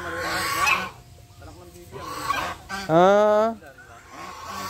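Goose honking at a private farm, a loud close honk with a nasal tone standing out from ongoing low background noise and brief human sounds.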